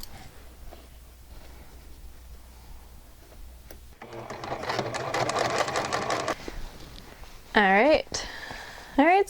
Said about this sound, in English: So now I'm going to sew the bottom.